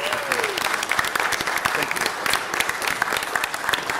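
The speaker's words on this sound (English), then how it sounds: "If I could ask everyone to give her a great big round of applause." A room full of people applauds at a city council meeting, with dense, sustained clapping and sharp individual claps standing out, plus a faint murmur of the crowd underneath.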